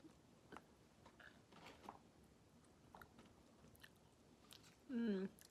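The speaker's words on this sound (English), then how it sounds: "Chewing is weird." Soft, faint chewing of food, including fries, by someone recovering from double jaw surgery, with quiet irregular crunches and mouth sounds spread across the clip and a short vocal groan near the end.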